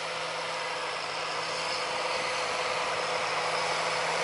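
Tractor engine running in a farm field where rapeseed is being sown with a 9-metre Horsch seed drill; a steady, continuous mid-distance drone with a faint hum, no talk.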